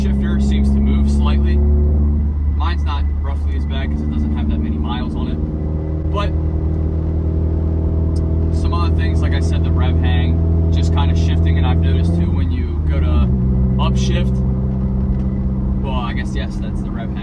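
A 2018 Subaru WRX engine revs steadily and loudly, the pitch climbing and falling with shifts and hanging briefly before dropping, with someone talking over it throughout.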